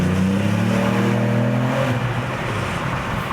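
A Ford Puma ST accelerates hard in second gear through a tunnel with the window down, its engine note climbing loudly and echoing before easing off near the end.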